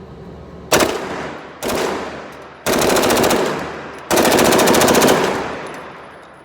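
An AR9 carbine fitted with a PSA 3.5 drop-in trigger fires four loud shots in quick succession, close and sharp with echoing tails, the later ones spaced a little wider, no talk.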